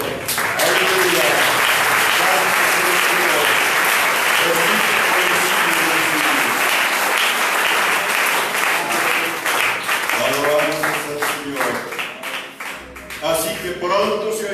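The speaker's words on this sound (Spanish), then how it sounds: "Démosle aplauso al Señor." Congregation at a Spanish-language church worship service breaks into sustained, dense applause lasting throughout, with voices calling out over the clapping and a brief pause near the end.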